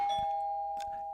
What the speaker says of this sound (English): Hey, that's the doorbell.